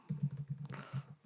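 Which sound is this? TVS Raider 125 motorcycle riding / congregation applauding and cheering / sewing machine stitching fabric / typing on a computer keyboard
typing on a computer keyboard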